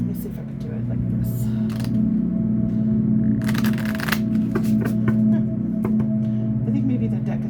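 Tarot cards riffled and shuffled by hand in repeated bursts of soft rapid flutters and slaps, with a person talking quietly throughout between the shuffles.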